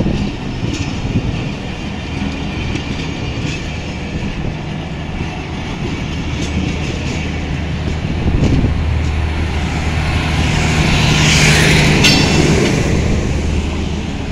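An express train departing Rahim Yar Khan railway station, rumbling and rolling along the tracks, loud and close, with a steady low drone and faint wheel clatter building slightly.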